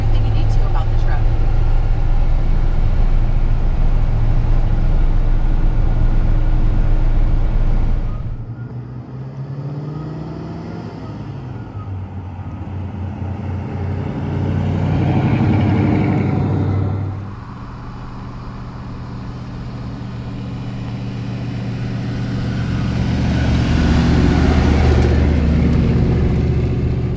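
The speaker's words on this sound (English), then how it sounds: "So we'll go for a little drive, and hopefully you'll get to see everything you need to about the truck." A 1966 Ford F100 pickup with a four-speed manual drives along, its engine droning loudly, dipping as gears change and rising again under acceleration, with a voice speaking over parts of the run.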